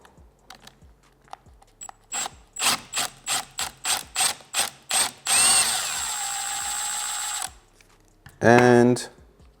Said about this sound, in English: We're gonna unscrew this Torx bolt.